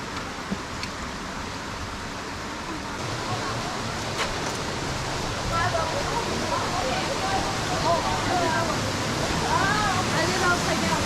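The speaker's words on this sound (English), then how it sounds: "here we are at the bottom of the Grotto Falls" Water pours steadily at the base of Grotto Falls in Circle X Ranch, a broad continuous rushing roar heard close, with faint speech and movement over it.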